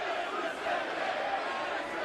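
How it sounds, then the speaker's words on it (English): Capacity arena crowd roaring at a WWE SmackDown wrestling event, a dense continuous wall of cheering and shouting that stays loud and steady throughout, with a commentator's voice partly beneath it. "And you can hear the capacity crowd here"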